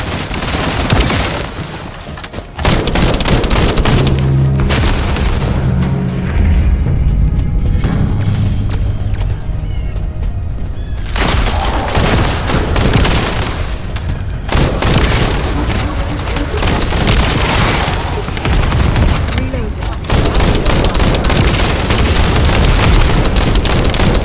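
Heavy gunfire and repeated booming explosions fill a firefight in the video game The First Descendant as power units are destroyed. Loud, continuous automatic bursts are broken by a few brief lulls.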